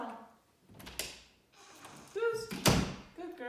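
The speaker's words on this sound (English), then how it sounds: "What we want them to do is to actually latch the door," A trained dog pushing a household door shut with its nose or paw, giving a soft thud and then a firmer latching thump, heard close by amid a trainer's brief praise.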